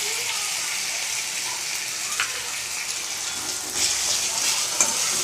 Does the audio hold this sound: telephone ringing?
no